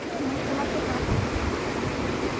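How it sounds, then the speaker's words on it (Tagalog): Cold running water in an outdoor spot flows in a steady, close, continuous rush with no breaks. "Oh, di ba ang gana ng tubig, running water lang."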